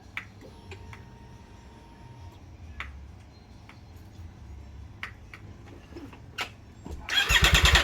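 A 2020 Triumph Street model motorcycle with an SC Project S1 titanium exhaust cranks and catches near the end, bursting into a loud, rough idle after several seconds of quiet ticking and faint background noise.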